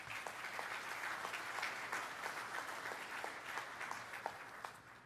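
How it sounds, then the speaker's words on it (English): A conference audience at the LANPAC military symposium applauds the panelists with a steady, sustained round of clapping that carries on evenly for several seconds, heard from some distance in a large hall. "Please give the panelists a round of applause."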